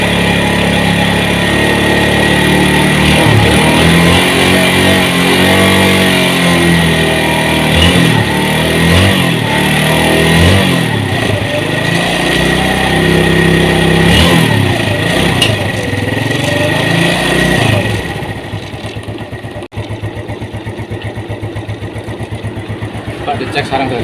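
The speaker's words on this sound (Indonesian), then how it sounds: "Sepeda motor nyala" Yamaha Vega motorcycle engine running steadily at idle, a loud continuous close-up drone with shifting tone that fades down near the end.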